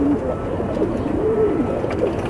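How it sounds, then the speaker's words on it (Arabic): Pigeons coo in low, rolling, repeated calls from a nearby loft, steady and fairly close against a soft background hum. "ده حمام يا جماعه حمام عياله بسم الله ما شاء الله في النش"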